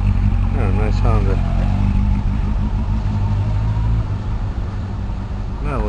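A Honda rolls past on a Singapore street near the Sultan Mosque at night, a loud, close engine drone with a rising whine as it goes by. A voice speaks over it briefly.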